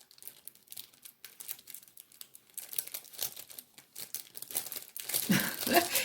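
A paper mail envelope being handled and its tab pulled, with crinkling and soft tearing rustles in irregular bursts that grow louder and denser toward the end.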